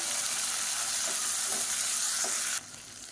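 Sliced onion and a medium tomato frying in a pan, a dense loud sizzle with a few soft stirring scrapes, the sizzle dropping abruptly near the end.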